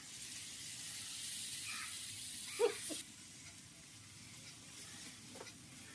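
Boiled chana saag greens are added to fried spices in a hot pan and stirred, giving a steady soft sizzle with a brief clink of the spoon partway through.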